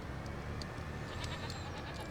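Goats bleating in the Farming Simulator 25 video game, a few short calls rising over a steady, noisy farmyard background, fairly faint and with no talk.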